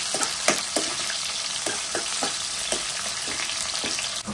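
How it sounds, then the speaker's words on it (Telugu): Steady, close sizzling of onions and green chilies frying in a pan, with soft scraping taps from stirring recurring every half second or so. "ఉల్లిపాయలు వేసుకోవాలి. కొద్దిసేపు ఇవంతా ఫ్రై చేసుకోవాలి."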